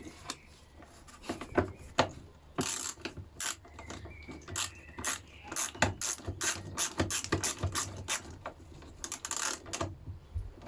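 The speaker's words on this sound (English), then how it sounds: "we can now use 10mm on the ratchet" A ratchet with a 10mm socket tightens a fastener while rear lights and wiring are fitted on a ZX, giving rapid close-up bursts of clicking with short pauses between strokes.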